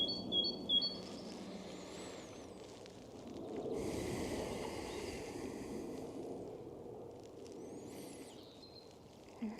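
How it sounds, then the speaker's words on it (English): Spring birds sing and chirp all around in the open air of a lawn, with bright calls and trills from several directions. The calls are fairly distant and faint over a low, steady background rumble. "The birds in the spring are very, very active and singing beautifully, as you can hear all around me."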